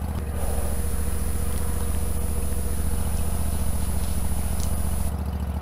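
A lawnmower engine runs steadily in Farming Simulator 19, from a modded Jack Moose Mow IT mower. The motor hums with an even mid-pitched drone and a faint high whine, holding constant loudness throughout.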